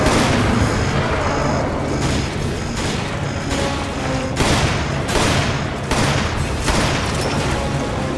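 Rapid gunfire in the co-op game Resident Evil 5, a dense string of loud close shots with sharp cracks and booming impacts, firing in bursts across the whole stretch without speech.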